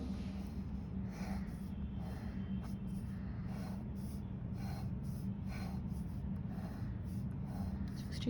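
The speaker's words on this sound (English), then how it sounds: "So here again I draw" Pen on paper drawing Karnaugh map boxes by hand, faint intermittent scratching strokes over a steady low background hum, with no talking.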